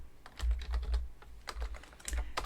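Quick clicks from a computer mouse and keyboard during a WinDev programming session, several sharp taps in uneven bursts at close range with no talking.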